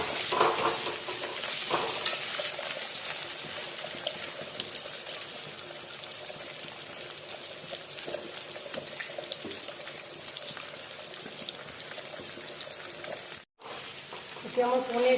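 Paneer cubes frying in a pan give a steady, close sizzle that runs throughout, with occasional stirring scrapes and a brief break near the end.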